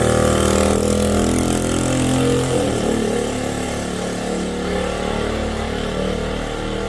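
A 1970 Benelli Buzzer 50cc two-stroke mini bike engine runs close by, buzzing loudly at a raised pitch before settling to a steady, slightly lower idle.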